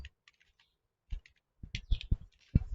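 Keys clack on a computer keyboard while a formula is typed into an Excel spreadsheet, a quick irregular run of close, soft clicks with brief pauses in between.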